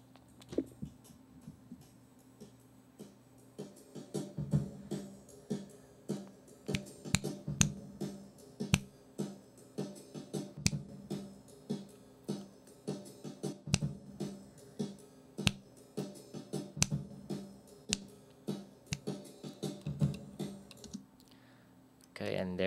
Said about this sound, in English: I'm just gonna snap or clap or whatever on top of it